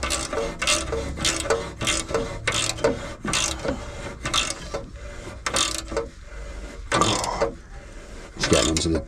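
A hand ratchet clicks in repeated short bursts while tightening a bolt on the lower suspension arm of a Range Rover L322, close up, with metallic rattles and clanks between strokes.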